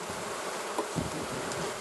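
Honey bees from a colony that must raise a new queen, buzzing steadily and close up in a hive, a dense continuous insect drone with no voices.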